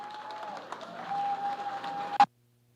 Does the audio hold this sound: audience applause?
yes